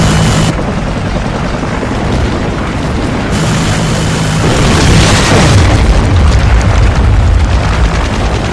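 A friendly Hind attack helicopter arrives in a first-person shooter on the map Resistance. Loud, continuous rotor rumble and booming blasts stay dense throughout, swelling in the second half as the aircraft draws near.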